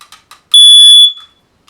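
A smoke alarm gives one loud, piercing electronic beep close by, preceded by a few soft faint clicks and followed by quiet.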